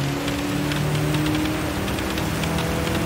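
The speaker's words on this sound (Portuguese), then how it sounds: "Consegue ouvir o barulho da chuva aí bem forte" Heavy rain in the Gran Turismo 7 racing game, a dense steady hiss of rainfall with a low engine drone underneath, constant and loud throughout.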